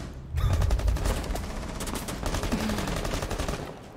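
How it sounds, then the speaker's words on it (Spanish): Rapid automatic gunfire sprayed at a window in Rainbow Six Siege, a loud sustained burst of many shots in quick succession lasting several seconds. "Se pone a tirar todas las balas contra una ventana sin obviamente darle a nada."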